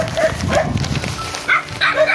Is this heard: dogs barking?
yes